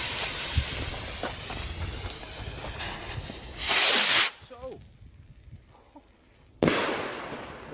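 A firework's long fizzing hiss builds and then cuts off, followed by a quiet pause and another loud burst of hissing, up close, with a voice in between.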